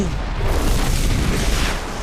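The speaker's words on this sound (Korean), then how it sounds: "우주 저 멀리 블랙홀이 펑!" A deep, continuous roaring boom fills the whole stretch, loud and dense like a cinematic explosion effect for a distant black hole blowing apart in space.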